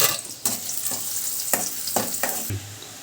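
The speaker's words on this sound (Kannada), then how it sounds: "ಕಾದ ಮೇಲೆ ಎಣ್ಣೆ ಕಾದ ಮೇಲೆ ಹಾಕ್ಬೇಕ್ರಿ ಈರುಳ್ಳಿ ಚೆನ್ನಾಗಿ ಕೆಂಪಗೆ ಬಾಡೋ ಥರ ನಾವು ಅದನ್ನು ಬಾಡಿಸ್ಕೋಬೇಕು" Onions frying in hot oil for a North Karnataka ridge gourd stir-fry, a continuous close sizzle broken by several sharp scraping stirs of a spatula in the pan.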